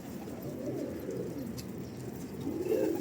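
Pigeon cooing softly at a distance outdoors, low murmuring calls that swell slightly near the end, with faint background ambience and no talk.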